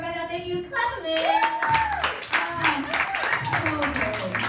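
Comedy show audience clapping the comics back onto stage, a scattered burst of applause heard under a loud voice talking over it.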